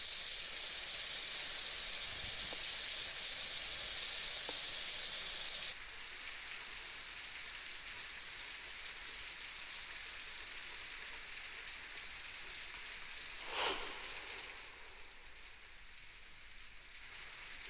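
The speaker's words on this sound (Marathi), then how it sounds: "मुंबईसह परिसरामध्ये पहाटेपासून मुसळधार पावसानं हजेरी लावली" Heavy rain falls steadily in Mumbai as a dense, even hiss that continues throughout, eases slightly partway, and is broken once by a brief louder rush; no voices are heard.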